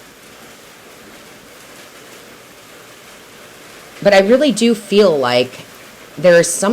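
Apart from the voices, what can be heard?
rain falling outside an open door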